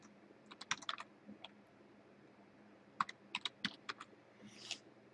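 Sparse computer keyboard typing while entering data, two small clusters of distinct crisp key clicks separated by a quiet gap, close and moderately soft, no voices.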